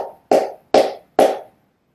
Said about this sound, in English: palmas sordas, sordas means muted, and so they're a little bit muted, and they sound like this.